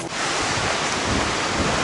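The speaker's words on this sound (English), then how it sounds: "And the wind's picked up again." Steady, strong wind roars across an open hiking trail near windmills, buffeting the microphone in a continuous loud rush with no pauses.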